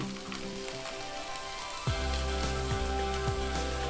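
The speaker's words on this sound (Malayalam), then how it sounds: "ഇനി ഈ സവാള ചെറുതായിട്ടൊന്ന് വഴറ്റിയെടുക്കണം" Sliced onion sizzles as it sautés in a pan, a constant crackling fry close by that grows louder partway through, with a faint low hum underneath and no talking.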